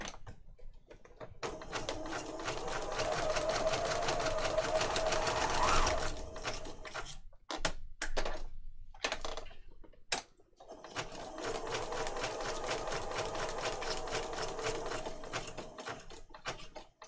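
A sewing machine stitches down a paper junk journal page, running in a long steady whir for several seconds, pausing with a few clicks, then starting again for a second sustained stretch of fast mechanical stitching, close and clear.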